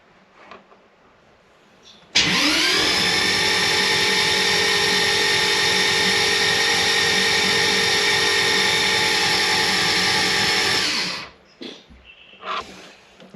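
A Toyota Supra 2JZ engine with issues and leaks fires up on its first start and settles into a loud, steady whining idle close by. It runs for about nine seconds, then shuts off abruptly, with faint background noises afterward.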